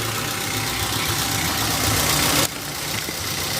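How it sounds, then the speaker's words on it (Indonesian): A Toyota Avanza / Daihatsu Xenia car engine idling steadily nearby, a continuous mid-low running hum with a faint rough knock, shifting slightly in tone near the end as if the microphone moves. "Ini sudah saya nyalakan mesinnya ya, engine-nya sudah hidup."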